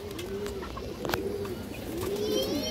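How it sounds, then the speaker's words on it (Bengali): A red-geared female pigeon coos in clear, low rolling phrases, one near the start and a longer run toward the end, over steady background noise with no talk. "খুবই সুন্দর একটা মাদি কবুতর মাশাআল্লাহ, লাল গিয়ারের"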